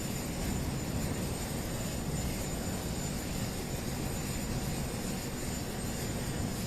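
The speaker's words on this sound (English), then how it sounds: "I can't imagine the helicopter's rotors with the wind whipping up are going to feel very good coming up here" Marine One helicopter at the Washington, D.C. presidential inauguration festivities gives a steady, moderately faint engine and rotor drone that holds evenly for several seconds with no voices.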